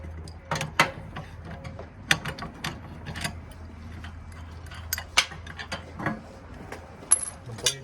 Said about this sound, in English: you'll take your adjustable wrench and you'll take off both these nuts